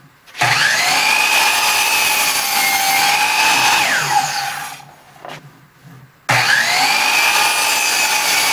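Power saw cutting a 19-degree bevel across the bottoms of 2x4 sawhorse legs, a loud sustained whine for several seconds that winds down, a brief pause, then a second cut starting abruptly.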